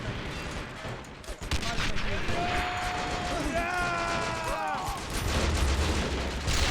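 Captured guns open fire on a mountain defense line in Men of War: Assault Squad 2, with bursts of gunfire and machine-gun rattle crackling through a busy battlefield din while a player talks over it.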